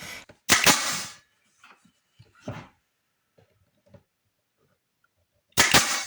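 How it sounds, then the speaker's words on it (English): Pneumatic nail gun driving finish nails into the wood sides of a rustic farmhouse shelf during glue-up; a few sharp, loud snapping shots, two close together at the start and another near the end, with quieter handling clicks between. "Shoot some finished nails in."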